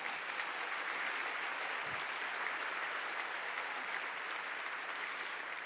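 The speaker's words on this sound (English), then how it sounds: "Seriously, hand of applause for yourself." Steady applause from a crowd at a medical Match Day event, a dense wash of clapping that holds at an even level throughout without a break.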